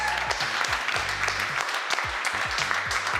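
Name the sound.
audience cheering and applauding at an award ceremony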